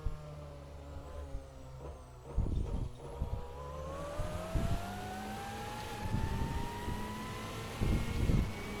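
Turbocharged Auriel 8 race car engine in a video game, revving as its pitch climbs steadily, with bursts of throttle and turbo rumble under it, close and fairly loud, without voices.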